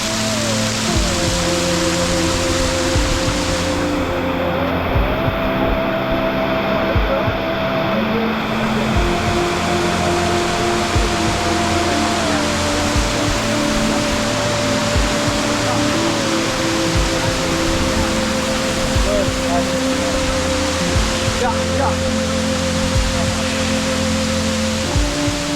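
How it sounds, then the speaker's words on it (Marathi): Forest waterfalls on the Bhimashankar jungle trek from Khandas, giving a steady, broadband rush of falling water that fills the whole stretch without pause, with faint tonal hum layered beneath. "सगळीकडे आपल्याला धबधबे आणि धबधबे दिसतायत"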